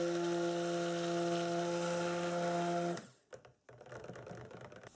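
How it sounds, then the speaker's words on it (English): A stick blender whirs steadily through soap batter tinted with mica, a loud, even motor drone that cuts off after about three seconds, leaving faint clatter and rustling as the blender is set aside. "I'm just going to use a stick blender to bring that to a similar sort of trace"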